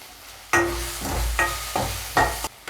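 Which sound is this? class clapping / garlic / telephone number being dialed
garlic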